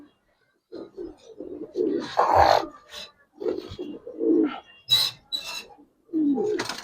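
Giribaz silver pigeons coo close by in short, throaty bursts separated by brief pauses, alone and fairly loud.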